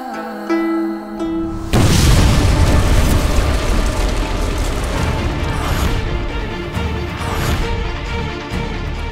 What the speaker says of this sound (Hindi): ये कैसा धमाका था? हम पर हमला तो नहीं हुआ?